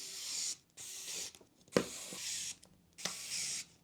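Screws are driven into the standoffs of a Clover FPV Systems ShamCam drone frame, giving three separate whirring, ratcheting bursts of about half a second each, close and fairly quiet, with short pauses between them.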